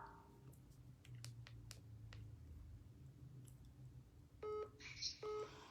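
A telephone keypad is dialed before a call, with a few faint clicks and then two short bursts of DTMF tones near the end, heard quietly in a room.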